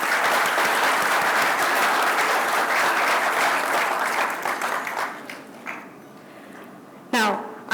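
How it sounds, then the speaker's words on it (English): An audience at a Jio True 5G launch event applauds loudly and steadily, the clapping thinning and fading out near the end before a voice briefly returns. "Please give a big round of applause."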